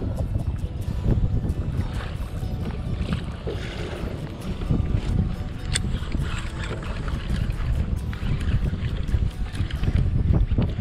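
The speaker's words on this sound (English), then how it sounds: "wind's blowing pretty good. It's like over 10 miles per hour" Wind blows over a kayak at sea at over 10 miles per hour, a continuous close buffeting rumble with gusty surges, choppy water and microphone wind noise.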